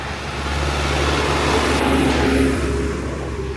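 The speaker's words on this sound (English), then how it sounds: "Look, real Serbian tractor." A tractor engine rumbles steadily past on a village road in Vojvodina, Serbia, a broad mid-range drone that swells and holds near the listener, with no talking.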